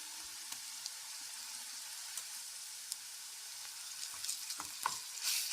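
Ginger garlic paste frying in oil with softened onions for an egg pepper fry, a faint, soft sizzle with scattered clicks of stirring, growing brighter at the end.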